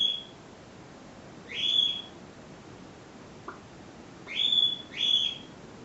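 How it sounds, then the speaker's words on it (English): Bird calls sound outside, three sharp whistled chirps: one near the two-second mark and a close pair toward the end, each clear over steady low background noise, with a faint tap between them. "is somebody murdering the bird?"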